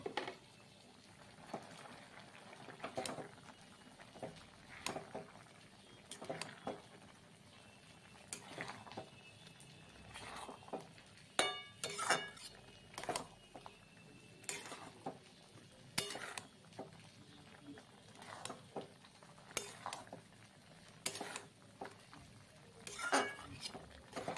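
Poppy seed paste stirred into ridge gourd curry in a pan on a gas stove, heard as repeated faint clinks and scrapes of a utensil against the pan over a soft simmering background.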